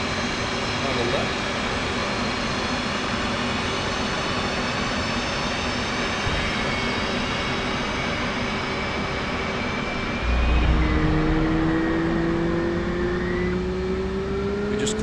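F-18 Hornet jet engine in the DCS flight simulator with the canopy closed, a steady broad whining roar with high tonal whistles, rising in pitch and pushing a low rumble near the end.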